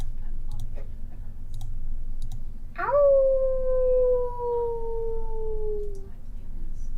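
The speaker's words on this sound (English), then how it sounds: "Howling." A single long howl, rising sharply then sliding slowly downward for about three seconds, rings out clearly over low background hum, sent in to a New Year livestream.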